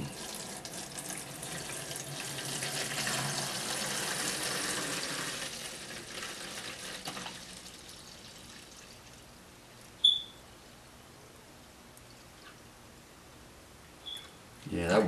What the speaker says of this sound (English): I'm gonna go ahead and open this up, and we'll go ahead and pour it in.